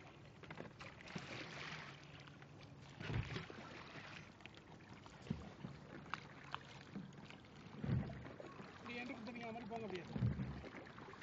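A motorboat cruising near Palm Jumeirah in Dubai, a steady low engine drone with water washing against the hull and wind, while people talk faintly throughout.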